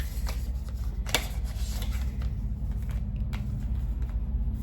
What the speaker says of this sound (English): Look, listen, I keep shuffling the cards.